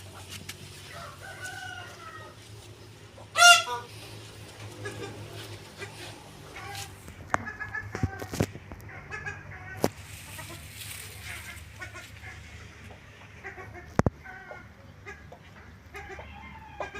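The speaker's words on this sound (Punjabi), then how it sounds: "ਇਹ ਪਾਈਡ ਮੋਰ ਹੈ ਜੀ," On a farm, a pied peacock and other fowl give several harsh, scattered calls, one loud call early on and quieter ones later, while people talk intermittently nearby.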